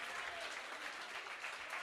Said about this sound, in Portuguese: Dê para Jesus a sua melhor salva de palmas.